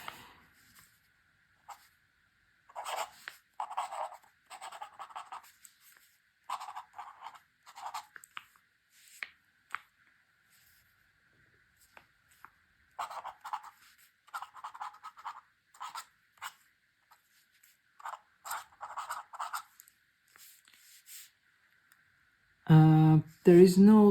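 A Pelikan 100N fountain pen with a very fine nib writes on paper, making faint, close scratchy strokes in short irregular bursts separated by quiet gaps, with a louder sound near the end.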